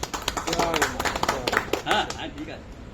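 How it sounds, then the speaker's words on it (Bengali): An audience at a spiritual gathering claps in uneven, scattered bursts while a voice keeps talking over the clapping. "আমরা একটু হাততালি দিতে পারি এই জন্যে।"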